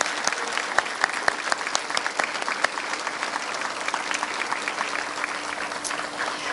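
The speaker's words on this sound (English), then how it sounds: "Please join me in a round of applause" Steady applause from an audience at a school graduation ceremony, dense even clapping sustained throughout with no speech over it.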